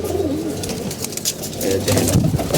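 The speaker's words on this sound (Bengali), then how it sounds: "খুব সুন্দর একটা কবুতর" Pigeons coo close by in repeated low, throaty rolls, some overlapping, alongside soft rustling and a few light chirps.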